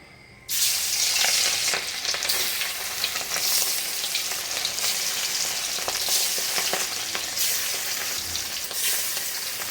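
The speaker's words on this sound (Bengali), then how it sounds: "কড়াইতে তেল গরম হয়ে গেছে এখন মাছগুলো ভেজে নেব" Rohu fish pieces fry in hot mustard oil in a kadai, giving a loud, dense, steady sizzle that starts abruptly after a brief quiet moment and crackles on without pause. No one speaks.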